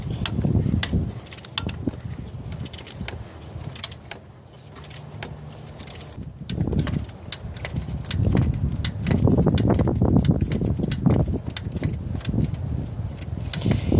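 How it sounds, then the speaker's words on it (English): A 9/16 socket wrench works on the alternator of a 2014 Kia Cadenza, giving close, irregular metallic clicks and rattles over a low background hum, with no speech. "So right now I'm just using a 9/16 socket to tighten the alternator back up."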